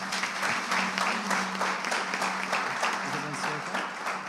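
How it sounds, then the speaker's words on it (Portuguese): A church congregation at a celebration service claps, a steady, moderately loud patter of many hands that continues throughout, with a faint voice murmuring under it near the end. "Podemos aplaudir Jesus?"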